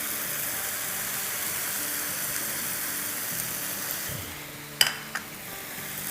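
Spices being stirred into taco filling in a frying pan: a steady bright sizzle throughout, then a couple of sharp scraping clinks from the pan near the end.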